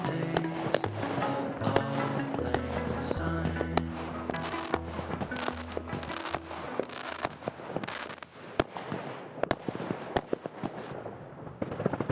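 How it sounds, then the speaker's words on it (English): Dense New Year's Eve fireworks burst outside, with many sharp cracks and pops over a steady rumble of distant explosions, heard from indoors aboard a winter narrowboat. "we had a quiet New Year's Eve watching all the fireworks going off out of the window"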